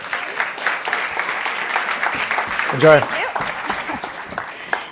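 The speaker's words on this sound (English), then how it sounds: "Give her a round of applause." Applause from a festival audience greeting a speaker as she comes up to give a talk on ethical AI, steady clapping throughout with a brief spoken word and a short vocal burst near the middle.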